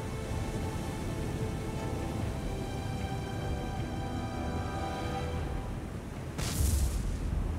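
Explosions in the naval combat game War on the Sea, Allied Pacific campaign: a deep, sustained rumbling roar that swells into a louder, bright burst near the end, with no voices.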